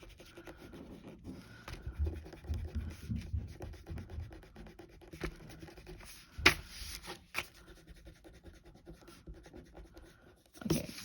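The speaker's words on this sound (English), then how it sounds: "I'm going to erase the other circles that I drew" A pencil eraser rubs back and forth across paper, taking out drawn circles. The scrubbing strokes are soft and uneven, with a few sharper scratchy bursts, and the sound is faint and close with no talking.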